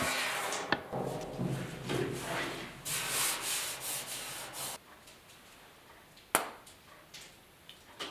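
Sanding on the bodywork of a 1972 Ford 4x4 truck's driver door gives a rough, steady abrasive rasp for several seconds. It then drops to quieter scraping, with one sharp knock near the end.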